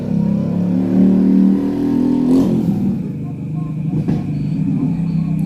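Passing road vehicles rumble and rev nearby at a roadside while a person talks over the steady traffic noise.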